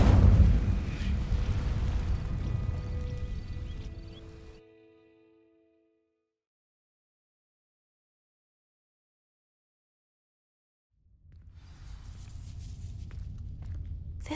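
A fire spell cast in Hogwarts Legacy, a loud burst of roaring, rumbling flame for about four seconds, then a long silence before low game ambience returns.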